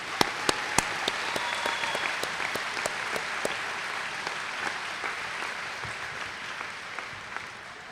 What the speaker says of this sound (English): So please join me in applauding all of them as a group.